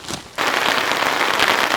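Hail pelts a heavy-duty DD Hammocks XL tarp during severe camping weather, starting abruptly after a quiet moment and then hammering as a dense, loud, crackling patter close overhead.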